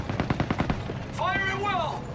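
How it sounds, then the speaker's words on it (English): Rapid small arms gunfire in a World War II video game rattles off in a quick burst of about eight close shots, then gives way to voices talking. "Small arms fire."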